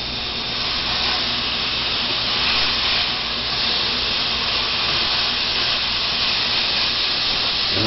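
A half pound of pork and beef meatloaf mix cooking in a pan, giving off a steady, loud, broadband sizzle and hiss that holds unbroken throughout with no talk.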